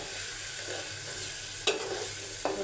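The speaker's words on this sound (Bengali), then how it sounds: "আমি এটা বাগার দিয়ে দেবো" Hot tempering poured into nearly cooked dal in a Bengali kitchen, a steady close sizzle with two sharp hissing bursts as the oil hits, no talk.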